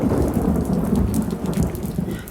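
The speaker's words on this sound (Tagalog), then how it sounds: "Kasi ang lakas ng ulan." Heavy rain pours steadily in a dense, loud, continuous roar of drops with no voices.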